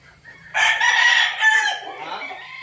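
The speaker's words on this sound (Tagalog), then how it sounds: "Yan, kukuha pa ng manok." A rooster crows loudly and close after a quiet start, a long strained call followed by softer clucking from chickens as it fades.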